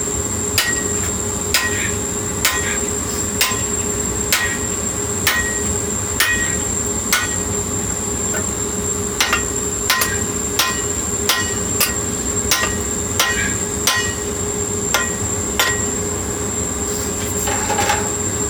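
A hand hammer strikes a steel drift to punch the eye of a blacksmith's hammer head without a striker, sharp ringing metallic blows repeating at an irregular steady pace over a constant background hum, close and loud.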